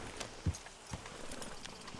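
A horse in Red Dead Redemption 2 clip-clops at a walk, with distinct hoof thuds spaced about half a second apart over a soft ambient bed of game sound.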